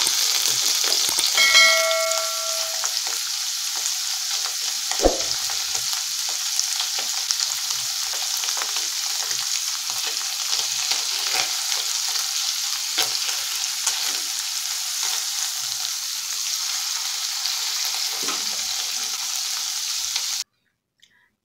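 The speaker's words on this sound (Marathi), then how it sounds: "इथे मी पनीर असे गोल्डन ब्राऊन होईपर्यंत परतून घेतले आहेत." Paneer cubes fry in hot oil until golden brown for a paneer biryani, giving a loud, steady sizzle throughout, with a brief clink of a utensil early on before the sound cuts off near the end.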